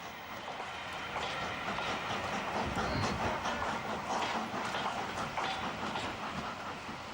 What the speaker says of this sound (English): It's a different world and a different century as 4472 departs Scarborough.